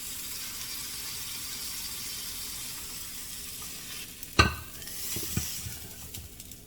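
Food sizzling in an inexpensive nonstick frying pan, a steady close hiss interrupted midway by a sharp utensil clack and brief clatter, no voices.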